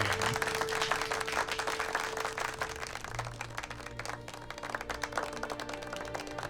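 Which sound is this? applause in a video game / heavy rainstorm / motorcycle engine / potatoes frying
applause in a video game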